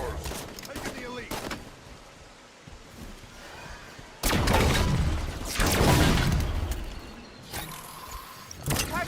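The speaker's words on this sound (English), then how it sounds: "I used to think the fuel rod cannon was really cool the first time I saw it in Halo 2" Heavy fuel rod cannon blasts from Halo ring out as loud bursts between stretches of voiced game dialogue, with a long booming volley midway and scattered sharp hits around it.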